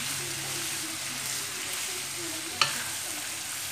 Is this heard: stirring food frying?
yes